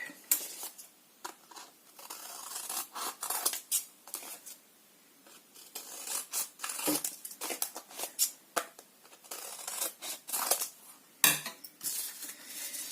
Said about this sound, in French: Donc je coupe mon surplus.